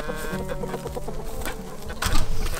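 Penned backyard homestead chickens clucking and squawking agitatedly, several birds close by, with a busy overlapping rhythm that swells louder near the end.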